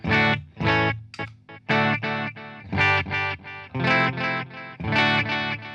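Electric guitar played through a Marshall amp with delay and reverb in the effects loop, clean-to-crunchy chords strummed in short rhythmic bursts with gaps between them, each hit trailing into a faint echoing tail.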